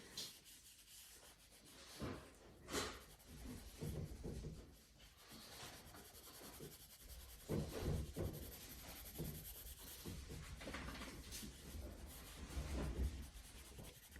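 A single piece of charcoal is drawn across newsprint for a portrait sketch, producing quiet scratchy rubbing strokes in irregular bursts, close and faint, with no talking.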